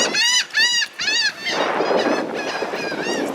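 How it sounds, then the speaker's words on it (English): Seagulls on a seaside boardwalk let out three loud, nasal calls in a row, close by. A broad, rushing wash of outdoor noise follows. "It's the attack of the birds."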